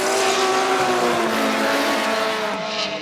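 Drift race cars at Fuji International Speedway roar through a corner, loud engines straining at high revs amid sustained tire squeal and skidding hiss, close and continuous, fading slightly at the end, with no talk.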